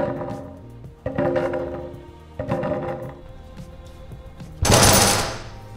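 A custom pro scooter slams hard onto the ground in one loud, sharp, close crash near the end, after a few duller knocks and handling rattles.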